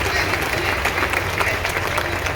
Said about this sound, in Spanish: fuertes aplausos que a los hermanos del sector